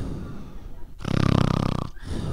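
A comedian performing live imitates a snore with his voice: a single loud, rattling, pulsing inhale lasting about a second, set between bursts of voiced sound.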